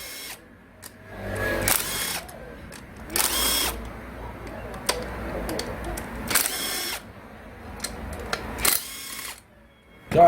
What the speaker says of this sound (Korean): 자, 이렇게 볼트를 5개 풀어요.